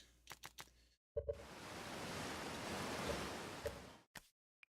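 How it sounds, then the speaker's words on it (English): Loud water waves in the video game Outer Wilds rush as a steady, broad wash of surf noise for about three seconds, framed by brief clicks and near silence before and after. "Yo, this water's too loud"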